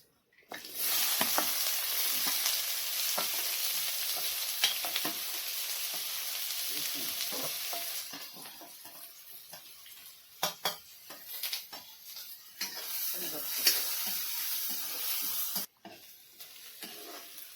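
Loud, steady sizzling of onion and garlic frying in hot oil with mustard seeds in a pan, with occasional clinks and scrapes of stirring, close up and continuous.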